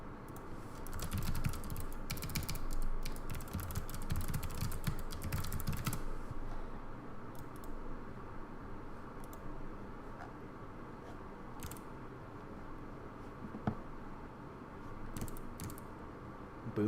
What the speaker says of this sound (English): Boomer typing?